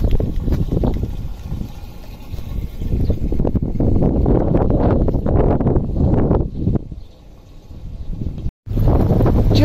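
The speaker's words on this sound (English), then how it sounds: "it's too windy now and cold" Gusty, cold wind along the Macclesfield Canal buffets the microphone in heavy, uneven low rumbles, easing briefly before a sharp cut and resuming.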